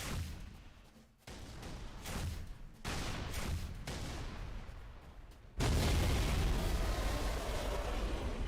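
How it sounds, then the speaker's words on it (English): Loud explosions from a Scarab walker in Halo 3 gameplay, a series of heavy booming blasts with sustained rumbling debris noise that swells into a dense continuous roar in the second half. "there's 2 explosions right now on the Scarab"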